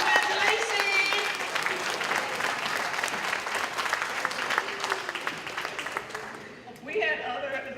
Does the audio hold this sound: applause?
yes